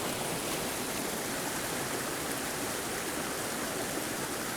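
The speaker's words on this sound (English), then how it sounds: "Nice little cascade here." A small winter creek cascade flows with a steady, broad rushing wash of water, continuous and fairly even, with no talking over it.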